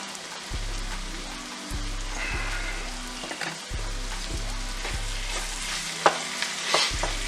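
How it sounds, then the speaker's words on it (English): Ground turkey browns with sweated vegetables in a dish for dirty rice, a steady close sizzle broken by regular scraping stirs and a few louder clatters toward the end, with no talk. "now I'm gonna go ahead and add my ground turkey to it"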